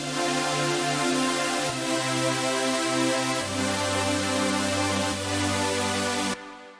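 Future bass synth saw pad chords with reverb sustain loud and full, shifting through a slow progression of long held chords over about six seconds before a short reverb tail.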